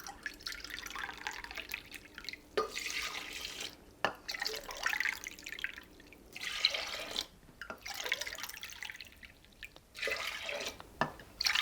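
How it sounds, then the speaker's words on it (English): Water poured into a pot for chicken and shrimp soup, a steady trickling and dripping stream that runs in bursts with short pauses, close and fairly quiet, with no talking. "Then I will add 5 cups water"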